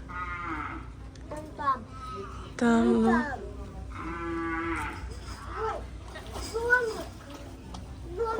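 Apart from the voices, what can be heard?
cow mooing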